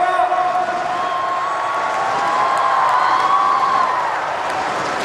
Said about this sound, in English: Cheered on by the crowd,